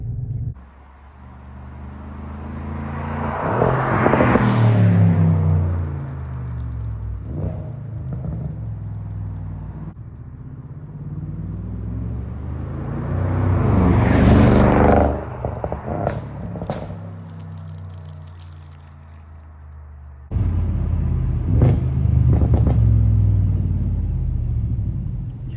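A 450 hp 2015 Audi S7 with all-wheel drive accelerates on a test drive, its engine rising in repeated loud revving sweeps and gear changes over a steady road rumble, with no talking.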